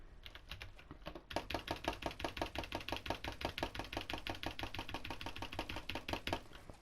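A rapid, even stream of keyboard and mouse clicks while editing builds in Fortnite, starting after a short quieter moment and rattling on steadily, close and alone.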